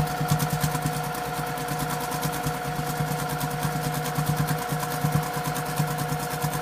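A sewing machine runs steadily while free-motion quilting a bumpy woodgrain line, its needle clattering fast and evenly, close and fairly loud, with no talking.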